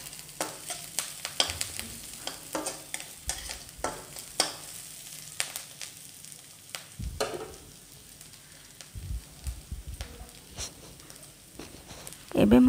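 Pieces of manja (banana stem) fry in a pan until golden brown, with repeated scrapes and taps of stirring over a soft sizzle and someone talking throughout.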